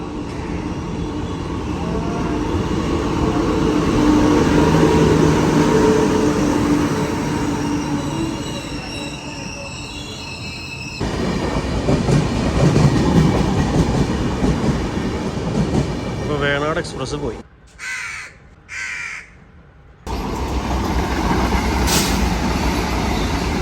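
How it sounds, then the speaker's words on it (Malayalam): The Venad Express passenger train rolls past close by, loud rumbling wheels and rattling cars with squealing metal, then the noise cuts in and out before resuming. "നമ്മുടെ വേണാട് എക്സ്പ്രസ് വന്നുകൊണ്ടിരിക്കുന്നുണ്ട് ഷൊർണൂർക്ക് പോകാനായിട്ട്"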